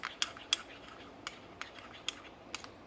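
Mango sticky rice sauce ingredients are stirred in a little bowl, with a spoon giving several light, sharp clinks against the dish at irregular intervals, close and quiet.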